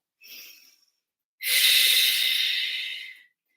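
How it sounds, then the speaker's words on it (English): Deep breathing during a leg-muscle stretch: a short, soft inhale, then a longer, louder, airy exhale, close and alone with no talking. "let's take those nice deep breaths into it"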